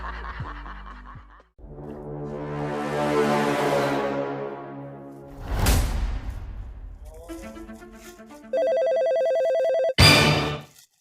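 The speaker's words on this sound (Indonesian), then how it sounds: "Telepon." Electronic telephone ringtone plays loudly among a mix of synthetic tones, with a sustained ringing burst near the end followed by a sharp final chirp, and no talk.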